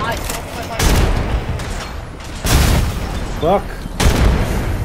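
Bursts of video game gunfire land in three or four loud, broad blasts spaced about a second apart, with a player's voice swearing briefly between the shots.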